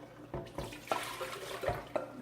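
Ingredients for a Ghanaian garden egg light soup poured into a cooking pot: a continuous wet splashing and gurgling of liquid with irregular louder splashes, close and steady, with no talking.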